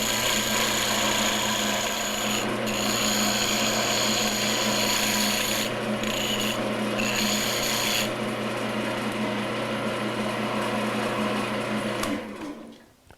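A woodturning lathe spins a wood blank while a tool shaves it round, giving a loud, close, steady motor hum layered with a continuous rasping scrape that runs about twelve seconds before stopping.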